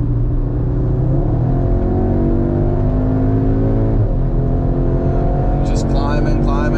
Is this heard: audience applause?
no